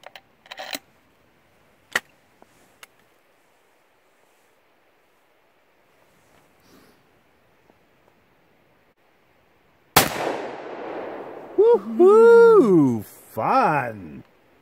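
Shotgun fitted with a 12-gauge-to-9mm caliber converter insert fires at cans outdoors, a few sharp sparse reports early on, then a voice speaks loudly near the mic.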